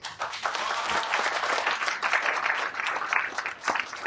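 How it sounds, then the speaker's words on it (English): Audience applause at a book awards event, a steady, dense round of clapping from a crowd that fills the whole moment, with a faint voice beneath. "with a huge round of applause, I want to welcome my new baby"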